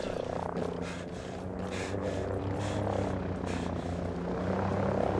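Helicopter in the video game Ghost Recon Breakpoint, a steady rotor and engine drone with rhythmic blade pulsing that holds at an even, moderately loud level throughout.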